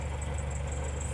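A Citroen D Special engine runs at low idle with a steady, even rumble. It is close and continuous, and nothing else is heard.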